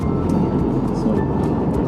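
A heavily loaded scooter with roll bags and a top box cruises at steady speed on an Ozarks road trip, its engine droning evenly under a loud rush of headwind.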